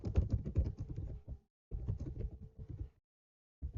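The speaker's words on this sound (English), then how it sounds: "now I can type text." Short bursts of typing on a computer keyboard: quick, quiet clusters of key taps at close range, with brief pauses between runs and no talking.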